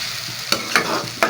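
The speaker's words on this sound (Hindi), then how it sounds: "और मिक्स करेंगे इसको। टमाटर भी डाल दिया इसके अंदर, हरी मिर्चें भी अब डाल दिए।" Tomatoes and green chillies being stirred in a pan as part of a pumpkin and chana dal dish, a steady sizzle broken by three sharp scraping strokes of the spoon against the pan, close and fairly loud.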